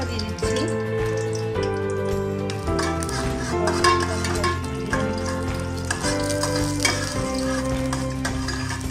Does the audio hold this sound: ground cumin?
yes